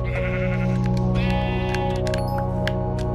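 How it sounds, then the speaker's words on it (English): Sheep in the Minecraft video game bleat repeatedly in a wavering, steady call over continuous loud game music and ambient tones, with no talking. "I saw another sheep around here somewhere."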